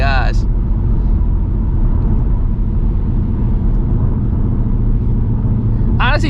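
A 2024 Mustang GT running E85 pulls hard in third gear, a loud continuous engine roar that holds through the whole stretch, with short voice bursts at the start and end.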